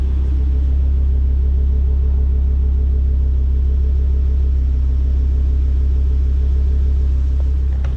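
Ford Focus ST race car with a five-cylinder engine burbling steadily at idle, a loud, deep continuous rumble close by with no talk.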